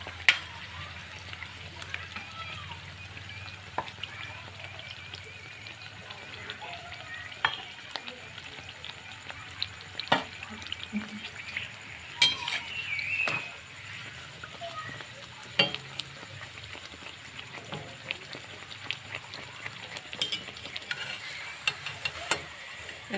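Lentil-stuffed puris fry in hot oil in a village kitchen, a continuous quiet bubbling sizzle with small pops and crackles, while a voice talks now and then over it.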